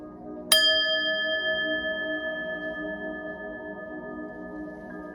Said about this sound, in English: I'm going to ring the bell and clear your energy